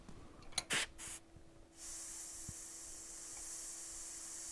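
A paint sprayer sprays red oxide paint in a steady, quiet hiss that starts after a few short bursts and continues evenly to the end.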